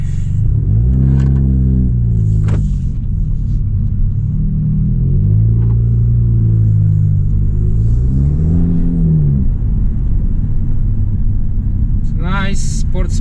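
A 2018 Honda Civic Sport with custom dual exhaust pipes and lowered suspension idles with a deep, loud rumble, rising in a few revs and settling back, close by throughout, with a voice speaking over it.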